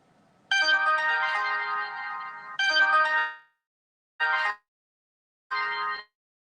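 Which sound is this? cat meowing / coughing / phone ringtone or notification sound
phone ringtone or notification sound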